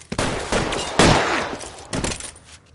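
Shootout gunfire in a police video game, several sharp nearby shots spaced in quick bursts across a few seconds, each with a ringing tail, with no talking.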